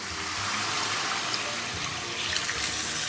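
Tap water runs steadily into a small braising pot already holding cassia bark, black cardamom, star anise and angelica root, a continuous close rushing pour that lasts throughout without pause.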